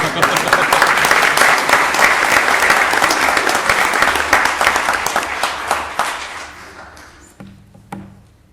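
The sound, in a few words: audience applause for a group of employees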